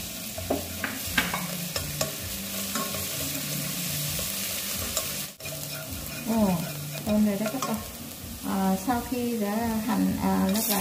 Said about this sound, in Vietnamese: bây giờ mình sẽ bỏ cỡ khoảng một muỗng hành hành nó mình đã băm rồi nè để cho nó thơm